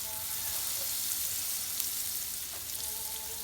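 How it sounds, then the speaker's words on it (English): Buttered bread frying in heated olive oil in a pan, a steady close sizzle and crackle that stays even throughout. "I've heated some olive oil in this pan and we're going to place our bread in this."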